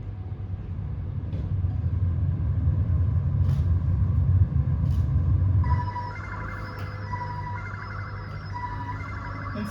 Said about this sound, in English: I was listening to the strange purr of the bus.